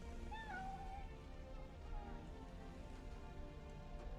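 A cat meows a couple of times early on, short rising and falling calls over a dense steady background hiss like rain, fairly quiet overall.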